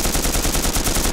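Rapid automatic gunfire in the survival shooter DayZ, a loud, dense burst of evenly spaced shots filling the short moment, close and without talk.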